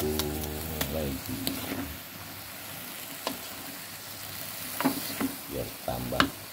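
Long beans and tempeh being stir-fried in a pan, with a steady sizzle under scattered scraping and stirring clatters that get busier toward the end, close up.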